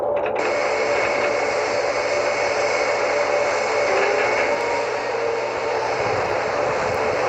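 An airplane accelerates down a runway and lifts off, its engines giving a loud, steady roar with a sustained whine that holds throughout, with no speech.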